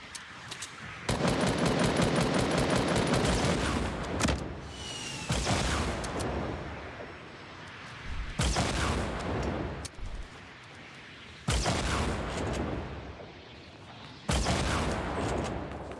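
Rapid bursts of explosive gunfire and blasts in a video game, several loud separate barrages with short gaps between them, dense and close with no talking over them.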